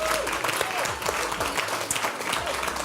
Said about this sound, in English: A round of applause to everyone who contributed to tonight.